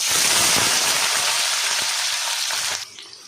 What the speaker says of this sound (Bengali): তেলটা বেশ গরম হয়ে গেছে, আমি একে একে সবজিগুলো দিয়ে দেবো